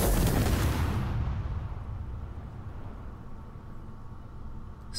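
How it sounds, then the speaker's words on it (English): A weapon fires at ablative armor in Space Engineers, one loud booming blast at the start that rolls into a long, slowly fading rumble with no voices. "Firing number five."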